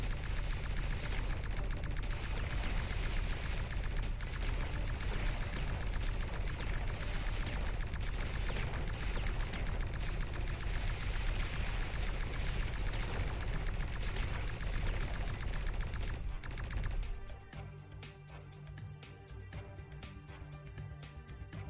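Enemy tanks in the video game X-Morph Defense keep up dense, continuous gunfire and explosions that form a loud, steady barrage, then drop abruptly to a quieter, sparser background near the end.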